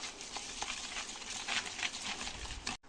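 Rapid, rhythmic clattering of a whisk beating eggs and sugar inside a bowl, close and continuous, stopping abruptly at the end.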